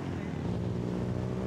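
A Hornet racing car on steel wheels at the Chateau Impney hill climb gives a steady, droning engine roar with a rough, buzzing tone, sustained and fairly loud throughout, with wind noise in the background.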